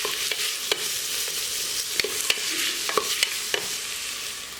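Green chilies sautéed and stirred in a pan for a Kerala chicken stew, a steady close sizzle with scattered sharp scraping clicks from the spatula against the pan.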